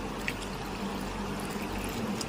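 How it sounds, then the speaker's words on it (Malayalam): Cold water is poured into a sweetened, lightly salted lemon juice drink, a steady close splashing and trickling stream that runs without pause through the short stretch with no voices. "നമ്മൾ ലേശം തണുത്ത വെള്ളം ഒഴിച്ചു കൊടുക്കുകയാണ്"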